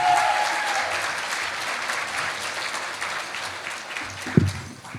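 Banquet guests at a South Florida Muslim organizations' gathering give a warm, sustained round of applause for the introduced president, a dense wash of clapping that tapers off near the end, with one sharp thump.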